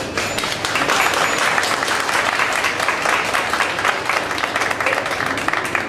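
Crowd applause at a Christmas charity event honoring pupils, a thick, continuous roar of many hands clapping at an even, loud level for several seconds, with no speech over it.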